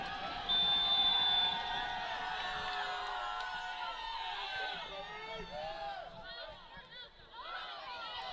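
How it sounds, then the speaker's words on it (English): Spectators at a Babson women's soccer match against Coast Guard cheer and whistle before kickoff, a sustained roar with rising whoops, beneath a commentator's speech. "Crowd doing all they can to build up the Bears here before the opening whistle."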